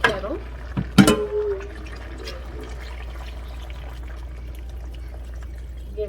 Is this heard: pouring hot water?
yes